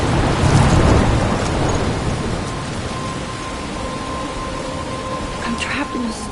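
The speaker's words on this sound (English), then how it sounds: "I'm trapped in a storm?" Heavy rain pours steadily through a Life Is Strange thunderstorm, with a loud low rumble of thunder rolling in at the start and fading beneath the downpour.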